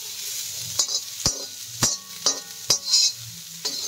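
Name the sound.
stirring a frying dish slowly in a pan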